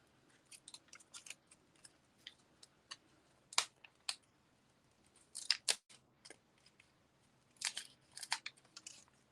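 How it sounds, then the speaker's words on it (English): Scissors snip ribbon ends on a handmade greeting card, crisp close cuts arriving in short irregular clusters with quiet pauses between them. "I will trim these ends off here"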